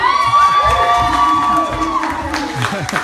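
Campus crowd at a Paul Mitchell hair school in Dallas cheering, whooping and applauding loudly and steadily, with a sustained voice audible over the noisy mix.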